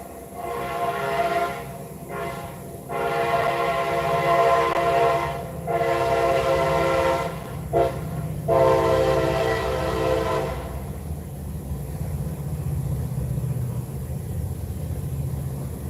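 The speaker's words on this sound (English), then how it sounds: "there's the train" A train passes nearby, its horn sounding in several long blasts over the first ten seconds, then the rumble of the cars carries on alone.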